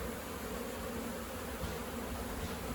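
Thousands of honey bees swarm during removal of a hive from a shed, producing a soft, steady, dense buzzing drone that carries on unbroken.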